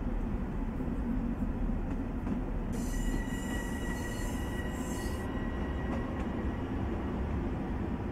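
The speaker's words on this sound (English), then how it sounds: "you got the trains moving, you got the static trains" Trains rumble through a station in Train Sim World's Long Island line at Jamaica, a steady low rolling roar with a brief high wheel squeal partway through, continuous and moderately loud with no talking.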